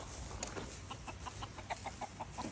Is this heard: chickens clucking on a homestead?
yes